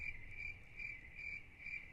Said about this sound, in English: the male crickets rubbing their wings together to attract the females. It's called stridulation